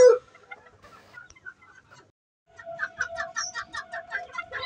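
Chickens at a fancy breed farm, including a Japanese mottled bantam, give a run of close, quick rhythmic clucks after a quiet stretch with a few soft calls.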